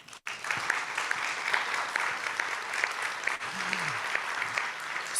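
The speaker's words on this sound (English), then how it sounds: "Big round of applause." Sustained applause from an audience at a Treaty Day celebration greets a community chief called to the stage, a steady dense wash of clapping with a few sharp claps standing out, lasting the whole stretch.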